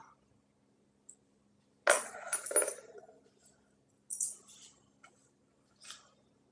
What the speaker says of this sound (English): that card flew across the floor